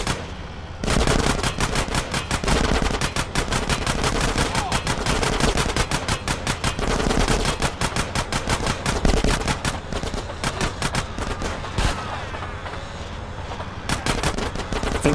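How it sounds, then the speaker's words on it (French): Relentless rapid automatic gunfire in GTA San Andreas, loud and close, a dense rattling stream of shots that barely pauses across the stretch, with no talk over it. "Ils nous voient, ils tirent."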